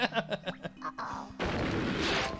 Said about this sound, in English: Jumped right into the cannon.